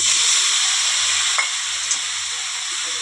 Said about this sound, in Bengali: আলুটা ভাজা হয়ে গেছে, এবার মাংসটা দিয়ে দেবো।